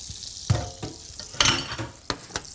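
Butter melting in a pan before onion rings and beef cubes go in: a soft steady sizzle close by, punctuated by a few sharp scrapes and knocks of a utensil against the pan, no voices.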